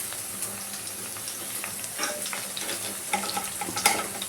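Minced garlic being stirred and shallow-fried in oil in a pan for an eggplant dish: a steady soft sizzle with scraping stir strokes and small clinks growing busier toward the end, no talk over it.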